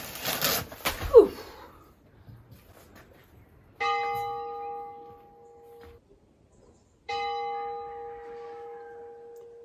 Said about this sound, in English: This bell that you can hear, 2 slow rings and then a lower ring, means that somebody's just died in Montepatuso